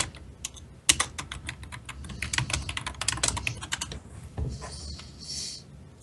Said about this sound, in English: Scarlet is over there pounding on the keyboard